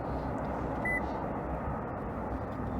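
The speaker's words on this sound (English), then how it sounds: "You'll hear a beep." A single short electronic beep sounds once from a factory remote start kit on a 2014-2019 Toyota Highlander, heard against a steady low outdoor background.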